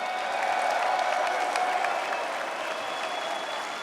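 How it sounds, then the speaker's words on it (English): Steady audience applause fills the arena at a professional wrestling event honoring the late football player and wrestler Steve McMichael, a dense wash of clapping from a large crowd that holds evenly and fades slightly toward the end. "Let's hear it for Steve McMichael"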